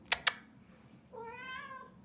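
A house cat meows indoors, a drawn-out, clear, close meow after a pair of sharp taps at the start.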